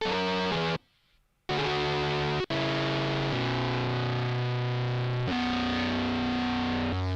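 The BitFuzzer distortion plugin thickens sustained instrument notes into a loud, buzzy, fuzzed tone with shifting pitches, cut by a short silent gap and a sharp break before the held notes resume.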